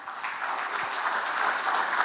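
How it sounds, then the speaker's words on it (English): Audience applause at an international business seminar, a short steady burst of clapping from a seated crowd, moderately distant and even throughout. "can we have a big round of applause?"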